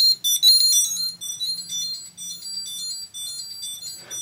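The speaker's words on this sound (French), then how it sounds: "ce qui sonne, c'est le petit, la petite télécommande" A small Steelmate I880 locator remote control rings with a loud, high electronic melody of short repeated beeps, close by and alone.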